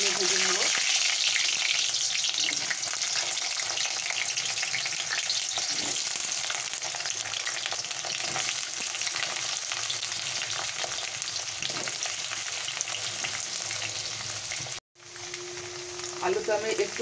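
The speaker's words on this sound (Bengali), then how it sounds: "আলুতে আমি একটু লবণ আর একটু হলুদ দিয়ে ভেজে নেব।" Potatoes with salt and turmeric fry in a wok, a loud continuous sizzle with occasional stirring scrapes, running steadily throughout and cutting out briefly near the end.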